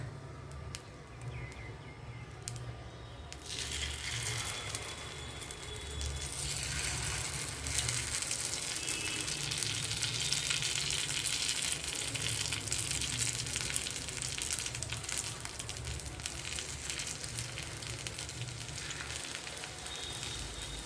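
Paddu batter fries in hot oil, a dense, steady sizzle that swells after a few quiet seconds and keeps crackling loudly and evenly for the rest of the stretch, with no one speaking.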